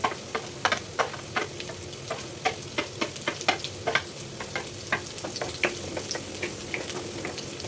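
Onions sautéing in a hot pan for a Filipino vegetable and pork dish, with a steady sizzle broken by frequent sharp scraping stir strokes in an irregular rhythm, close and moderately loud, no talking.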